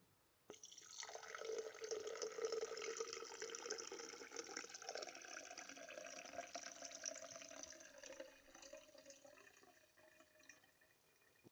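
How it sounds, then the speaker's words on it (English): Water pouring steadily into the cells of an HHO generator setup, a continuous splashing fill with dripping texture that starts abruptly and runs close and moderately loud throughout, tapering slightly near the end. "Now when I fill it up, the water will directly pour into the cells."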